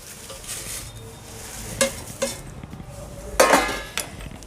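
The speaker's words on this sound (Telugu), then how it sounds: "ఇలా మనం వేసుకొని కలుపుతూనే ఉండాలండి, లేకుంటే మాడిపోతాయి" Poha flakes are stirred in a pan with a spoon, dry rustling scrapes broken by a few sharp metallic clinks against the pan, close and fairly loud.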